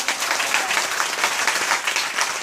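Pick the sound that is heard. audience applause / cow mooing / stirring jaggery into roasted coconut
audience applause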